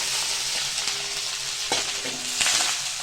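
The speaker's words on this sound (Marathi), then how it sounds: "हे बघा आता मी हा राईस टाकतो त्याच्यामध्ये." Rice sizzles in hot oil with cumin as a spoon stirs and scrapes the pan, making a steady frying hiss broken by occasional clinks and scrapes.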